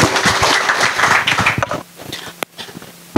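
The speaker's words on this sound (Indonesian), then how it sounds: "Tepuk tangan untuk kita semua." An audience at a 2024 election witness briefing claps in a dense burst of applause that fades after a couple of seconds, with a few scattered claps and low murmurs following.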